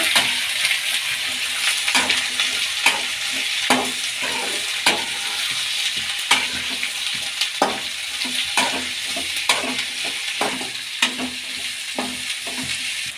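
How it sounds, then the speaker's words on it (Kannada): A pan of green chilies, curry leaves and onion sizzles steadily while a spoon stirs and scrapes, with frequent sharp clinks of metal against the pan in an irregular rhythm, close and fairly loud, no voices. "ಹಸಿಮೆಣಸಿನ್ಕಾಯಿ, ಕರಿಬೇವಿನ ಸೊಪ್ಪು, ಈರುಳ್ಳಿನ ಮಿಕ್ಸ್ ಮಾಡೋಣ."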